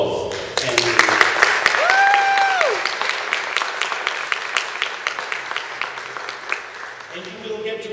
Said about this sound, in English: So please give them a warm felt applause.